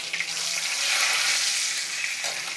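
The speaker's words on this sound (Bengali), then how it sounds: "এবার আমি শুকনো লঙ্কা আর তেজপাতা দিয়ে দেবো" Dry red chillies and bay leaves hit hot oil in a pan in a Bengali kitchen, giving a loud, steady hiss and crackling sizzle that holds evenly throughout with no voices.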